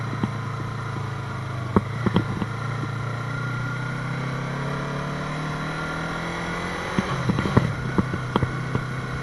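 A Yamaha R3 motorcycle engine hums and revs on a hill road, its pitch rising and falling through gear changes, with scattered clicks and thumps of shifting and wind noise around it.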